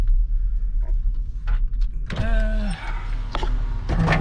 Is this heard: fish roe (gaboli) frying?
no